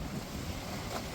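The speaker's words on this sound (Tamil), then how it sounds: "அங்கே பாருங்க எவ்வளோ தூசியும் காற்றும் மண்ணும் எப்படி பறக்குது" Strong cyclone wind blowing through a village, whipping up dust, sand and ash, a steady loud rushing roar with heavy gusts battering the microphone, and no voices.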